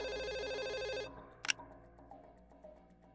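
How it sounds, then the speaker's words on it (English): A telephone in the game Twilight Syndrome rings with a rapid trilling bell for about a second, then cuts off, followed by a sharp brief click and a quiet, faintly humming room. "As she does this, the phone rings."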